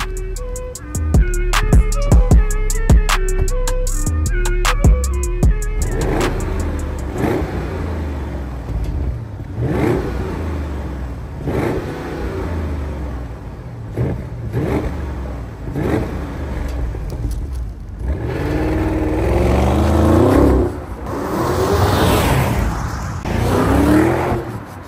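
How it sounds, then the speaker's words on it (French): An Audi SQ8 twin-turbo V8 engine revs repeatedly, sharp throttle blips and deep roaring bursts, then a longer rising rev near the end; no talking. "écouter la belle mélodie de ce V8 biturbo"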